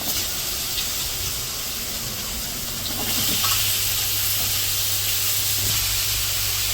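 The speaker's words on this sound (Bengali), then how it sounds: "আলুগুলো ভেজে নেব আলুগুলো ভেজে না নামিয়ে তারপর রান্না করব" Potatoes frying in oil during Bangladeshi village cooking give a continuous loud sizzling hiss that swells a little louder about halfway through, with no voices.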